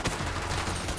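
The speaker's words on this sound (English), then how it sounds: "Ooh, they shot through there." Gunfire in the video game Borderlands 3 is a dense, continuous rattle of rapid shots, fairly close and steady for a brief moment, with no voices.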